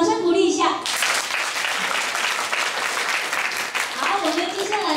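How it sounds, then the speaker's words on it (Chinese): Applause from an audience at a joint primary-school graduation ceremony, a steady, dense wash of many hands clapping together that holds for several seconds after a voice fades out at the start. "掌声鼓励一下"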